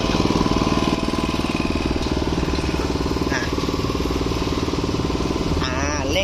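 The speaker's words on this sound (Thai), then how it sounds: "อันนี้เร่งเครื่องละ" The small engine of a used Japanese walk-behind sprayer runs steadily and loudly throughout, with a dense harmonic drone and rapid firing pulses, rising slightly near the end as it is revved.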